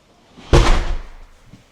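A house door leading to the backyard swings shut with a single solid slam, a sharp thud that rings briefly and decays, amid faint room ambience.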